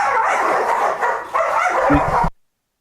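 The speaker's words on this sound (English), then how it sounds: "I think those dogs agreed with me" Several dogs bark and yip in a noisy jumble, moderately close, before the sound cuts off abruptly into silence.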